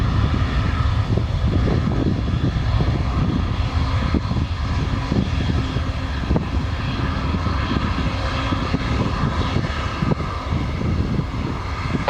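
A Ryanair Boeing 737-8AS jet takes off at Lisbon Airport, a loud, continuous engine roar rumbling steadily throughout without any voices.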